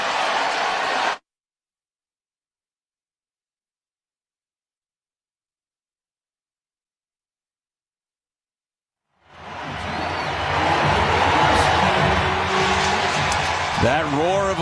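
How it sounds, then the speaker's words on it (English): Baseball stadium crowd at a Diamondbacks versus Brewers game roaring and applauding for pinch hitter Christian Yelich, a brief burst that cuts to silence, then a loud sustained crowd swell returns with voices mixed in. "That roar of applause that you hear is for Christian Yelich"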